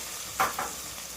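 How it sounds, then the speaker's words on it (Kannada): Vegetables fry in a pan for vegetable upma, a soft steady sizzle with two brief stirring scrapes close together. "ಈಗ 5 ನಿಮಿಷ ಆಗಿದೆ. ಇದೆಲ್ಲ ಫ್ರೈ ಆಗಿದೆ."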